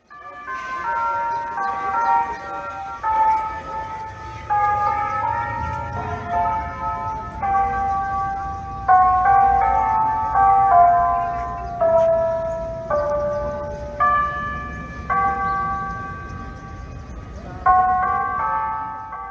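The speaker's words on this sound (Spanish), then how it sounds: "volver a escuchar el reloj de catedral" A cathedral clock's bells chime out a slow melody, bright tones ringing steadily with overlapping resonance against a low background rumble.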